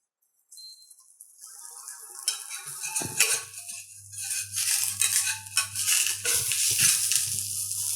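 Apple cranberry paratha roasting in a pan over a gas flame, a soft steady sizzle with clinks and scrapes of a utensil against the pan, close by and fairly quiet.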